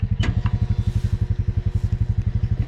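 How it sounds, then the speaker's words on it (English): Center pivot irrigation system starting up in a farm field, a steady rapid mechanical pulsing throb close by, with a couple of brief clanks near the start. "So I'll turn on the pivot here."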